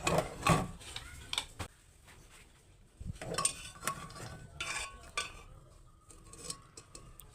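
A spoon scoops boiled amla out of a pressure cooker into a bowl, with a series of close metallic clinks and scrapes in irregular clusters, quiet between the knocks.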